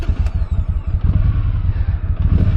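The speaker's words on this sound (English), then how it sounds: "Even with that stock exhaust, it still sounds pretty good" A 2010 Triumph Thunderbird 1600 motorcycle with stock exhaust idles and revs close by, its deep, lumpy twin-cylinder rumble loud and pulsing in irregular bursts, with no one speaking.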